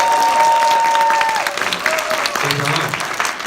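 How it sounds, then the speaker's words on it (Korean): Applause from a seminar audience, a burst of clapping and crowd noise with a speaking voice over it. "박수 쳐야 되는 거죠."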